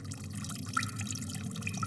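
Water dripping in an animated desert scene, a steady trickle with faint repeated drips under a constant watery hiss, close and moderately loud, no voices.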